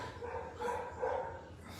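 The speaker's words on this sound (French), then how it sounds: "Il y a un chien qui embête le monde." A dog in Cameroon barks twice in quick succession, moderately loud and somewhat distant, over a steady background hum.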